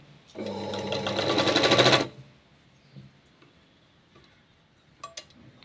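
A sewing machine stitches a cross strip onto a katori blouse in a dense, loud burst lasting under two seconds, then stops, leaving faint handling clicks and quiet room noise.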